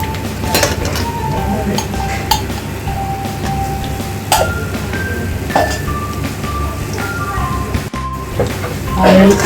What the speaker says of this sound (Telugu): ఆయిల్ వేసుకొని ధనియాలు వేసుకోవాలి, దోరగా వేసుకోవాలి